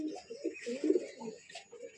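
Madrasi pigeons at a loft coo in soft, low, repeated phrases, close by and fairly quiet, with a few brief higher chirps above.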